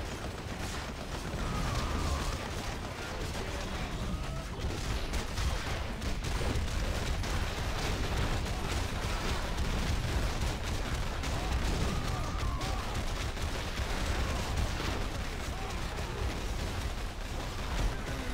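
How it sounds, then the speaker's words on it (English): Sustained in-game gunfire from a Marvel Heroes battle, a dense continuous clatter of shots and bursts with explosive booms running loud throughout, no pauses. "Just focus all your gunfire on him."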